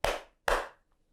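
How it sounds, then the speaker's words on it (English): Two sharp hand claps, close and loud, about half a second apart, each fading quickly, with no talking. "Can you clap hello?"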